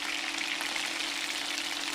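Steady sizzling and crackling of beef pieces frying in butter in a hot pan, continuous and fairly close, with no voices.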